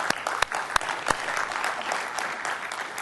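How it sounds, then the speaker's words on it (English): Audience applause at a cloud computing conference, a steady wash of clapping from a crowd with a few sharper individual claps standing out early on, continuing evenly throughout without any talk. "A nice round of applause for them."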